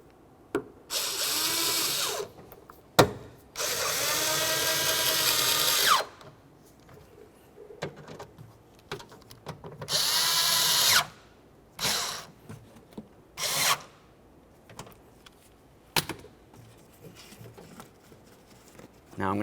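A power drill drives the interior door handle mounting screws on a 2001-2005 Ford Explorer Sport Trac, giving several loud bursts of whirring separated by quiet gaps, clicks and handling noises.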